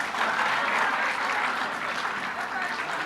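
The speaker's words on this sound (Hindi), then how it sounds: "एक बार फिर बहुत सी ज्यादा तालियां होनी चाहिए।" Dense, sustained applause from a large audience at a graduation ceremony in Peshawar, steady and fairly loud throughout with no clear pauses.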